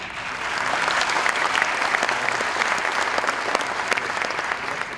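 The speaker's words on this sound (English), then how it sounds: "He really deserves this applause" Audience applause fills a hall at an English language department community event, steady dense clapping held at an even level throughout with no break.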